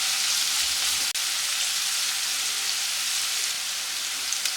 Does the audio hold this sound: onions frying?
yes